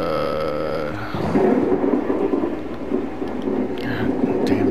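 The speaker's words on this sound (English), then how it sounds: "No horror game is complete without thunderous lightning." Thunder rolls through a dark horror video game, Outlast, a steady low rumble with rain-like hiss that swells after the first second and keeps churning to the end, with faint grunting sounds in the mix.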